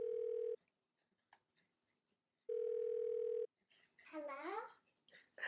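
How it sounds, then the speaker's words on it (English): A landline telephone gives two long, steady dial-tone beeps separated by silence. A short burst of garbled, warbling voice-like sound follows at the end, close and clear. "I'm going to see if I can get Mimi on the phone to help me answer your questions."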